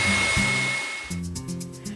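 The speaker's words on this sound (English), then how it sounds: "I'm gonna whisk these until they form really soft peaks. High speed." An electric mixer whisks egg whites at high speed with a loud, steady motor whine close by. It slows and drops lower partway through, then continues with a pulsing hum.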